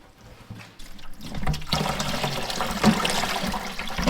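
Maple sap drains and trickles from a reverse osmosis unit's screen filter housing into a pail, a steady close liquid splashing and gurgling that swells after a quiet start and runs continuously without talk.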